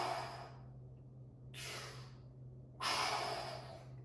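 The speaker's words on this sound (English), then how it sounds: "You want to be able to control this breathing directly from diaphragmatic breathing" Deep diaphragmatic breaths during a crunch exercise on a mat come as three long, close breathy exhales separated by brief silences, over a steady low hum.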